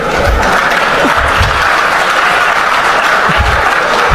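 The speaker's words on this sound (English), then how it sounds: "the gullible media personalities sitting there clapping for this stupid, unthoughtful statement from the vice president" An audience of media personalities claps steadily for a vice president's statement, a dense, even wash of applause lasting throughout.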